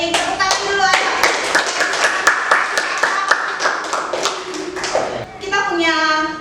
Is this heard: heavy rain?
no